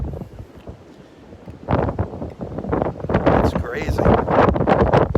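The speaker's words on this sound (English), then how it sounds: "The wind's getting under the scallops and blowing them right off the boardwalk" Gusty wind buffets the microphone on a beach boardwalk at Delnor-Wiggins, surging into loud roaring blasts after a quieter start, while people briefly talk under it.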